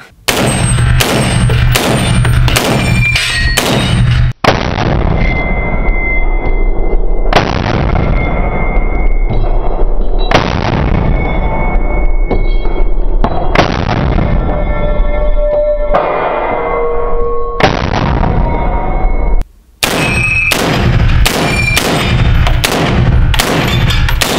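A Haenel CR223 AR15-style rifle fitted with an Osight sight fires in loud, close, sharp bursts at steel gongs, with quicker volleys at the start and end and ringing metallic clangs in between.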